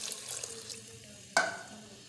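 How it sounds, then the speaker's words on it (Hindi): Water poured from a tap into a pot of Pakistani-style black chickpea curry, a soft trickle and splashing with a sharper splash partway through, quiet and close. "पानी और थोड़ा सा डाल दो बस।"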